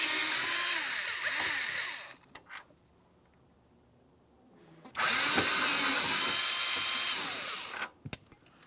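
Power tool whirring loudly as it backs out two 7mm-headed bolts from a panel on a 2000-2006 Chevrolet Tahoe, two sustained bursts separated by a quiet pause, with a few clicks at the end.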